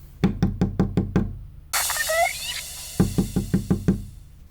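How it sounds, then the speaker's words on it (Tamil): Someone knocks on a door in quick, evenly spaced sets of six sharp raps, with a short burst of other noise between the two sets. "யாரோ கதவு தட்டுற சத்தம் கேட்குது"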